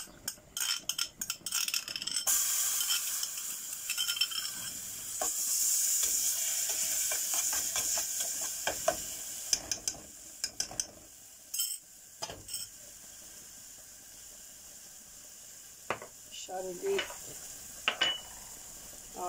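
Garlic fries in olive oil in a pan with a soft, faint sizzle under scattered clinks and scrapes of stirring utensils against the cookware.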